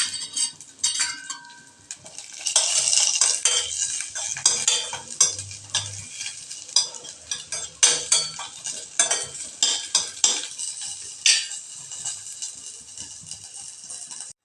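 Chopped cashews, curry leaves and chillies go into a hot pan for a one-pot meal, followed by a metal spoon scraping and stirring in quick repeated strokes over a soft sizzle.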